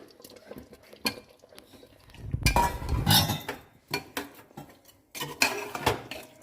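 Halved potatoes being stirred into mutton curry in a pressure cooker: a few metallic clinks and scrapes of a utensil against the pot, then a louder rustling stir, all close and without talk.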